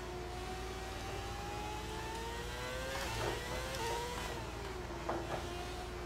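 Racing cars in the F1 2022 video game accelerating at a race restart on the Hungarian Grand Prix circuit, several engines whining and rising in pitch at once, with overlapping revs and gear shifts, loud and close, no voices.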